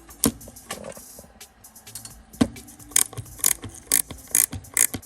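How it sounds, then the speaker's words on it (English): Metal ratcheting clicks and clacks from a hand tool tightening bolts during a line lock install on a 1966 Chevrolet Nova SS, coming in close irregular bursts with sharper, louder clicks toward the end. "I just tighten this one down since I know I'm not using these guys"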